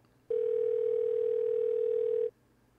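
Steady phone dial tone in the adventure game Thimbleweed Park, a single unbroken electronic hum lasting about two seconds, loud and clear with nothing else over it.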